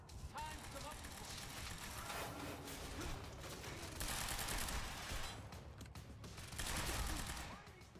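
Sustained gunfire from a firefight in the Quantum Break video game, bursts swelling and fading over a continuous noisy background, with louder volleys near the middle and end and talk mixed in.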